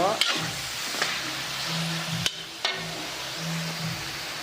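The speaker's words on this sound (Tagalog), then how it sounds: "Tapos, nilagyan ko ng repolyo at saka carrots. Igigisa ko rin mga guys." Shredded cabbage and carrots sauté in a hot pan for pancit, giving a steady frying hiss with a few sharp utensil clanks against the pan and no talking.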